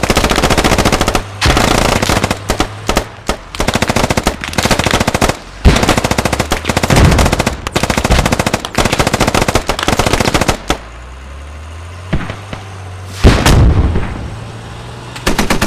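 Rapid, loud gunfire bursts crack one after another for about ten seconds in the Squad combat game, then a quieter lull with a single late blast; mortar rounds are called for, though the sharp reports sound more like mixed weapon fire.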